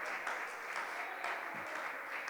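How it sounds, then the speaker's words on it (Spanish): A church congregation applauding at a service, giving a soft, even wash of clapping that sounds somewhat distant and low in level. "Dele aplausos al Rey de Gloria"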